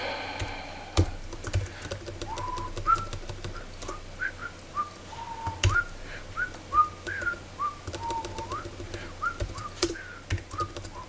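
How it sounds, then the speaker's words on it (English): A person whistles the Bewitched theme tune, a melody of short gliding notes at a moderate tempo with keyboard typing clicks scattered underneath, close and fairly quiet with no talking. "I don't know if you could hear what I was whistling. I think it was the Bewitched theme."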